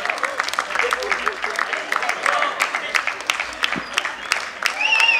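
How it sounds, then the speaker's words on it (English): An audience at a corporate evening event applauds the performers after the finale, a steady round of clapping with overlapping crowd voices and a few louder claps standing out, continuing to the end. "they definitely deserve the biggest round of applause for this evening and the lovely performance"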